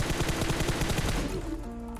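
Rapid bursts of automatic gunfire crackle through a firefight in a battle royale game, loud and dense for over a second before tailing off into a lingering tone.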